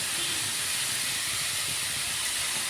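Sliced onions sautéing with salt in a pan for a Kerala beef curry, giving a steady, dense hiss of frying, close and unbroken throughout.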